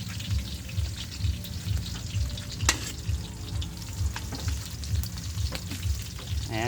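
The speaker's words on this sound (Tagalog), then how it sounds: "ginigisa muna yung bawang sibuyas" Garlic and onion sizzle steadily in hot oil in a pan for an igado dish, with a soft rhythmic stirring scrape repeating underneath and a few sharper clinks of the utensil against the pan.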